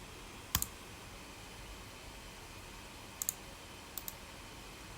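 A computer mouse clicks while designing in SolidWorks: a single sharp click, a brief pause, then two quick pairs of clicks over a faint steady hiss, close and without talk.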